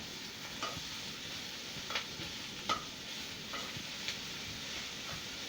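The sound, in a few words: stirring shrimp frying in a hot pan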